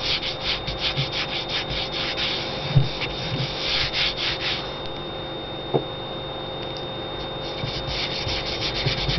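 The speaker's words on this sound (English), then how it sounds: "So I'm using my hands and really rubbing it" Bare hands rub a very thin layer of extender over a surface in a steady, close, soft swishing scrape with a few faint knocks, and no voices.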